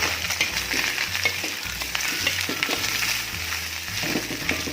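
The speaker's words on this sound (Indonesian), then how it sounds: "Kita aduk supaya rata" Fried rice (nasi goreng) being stirred in a frying pan, a steady sizzle with repeated scraping strokes of the spatula at a regular rhythm, close and fairly loud, no talking.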